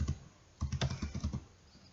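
An IP address being typed on a computer keyboard during a network configuration exercise: a short burst of keystrokes, a pause, then a quick run of close, fairly faint clicks tapering off.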